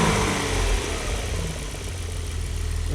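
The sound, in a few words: car engine idling roughly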